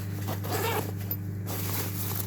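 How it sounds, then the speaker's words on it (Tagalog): Zipper on a N York tripod carrying bag being pulled open, a quick rasping zip run under a steady low hum, close but fairly quiet. "may zipper din siya dito."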